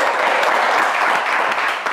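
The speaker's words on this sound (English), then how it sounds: "A round of applause." An audience gives a steady round of applause at a quiz-style game show in Ghana. The clapping is full and continuous, coming from the crowd at moderate distance.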